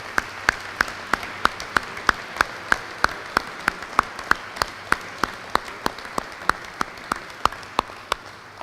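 Crowd at a university building ribbon-cutting ceremony applauds in a steady wash, with one or two hands clapping in a strong regular beat standing out above the rest, moderately loud throughout and tapering slightly at the end.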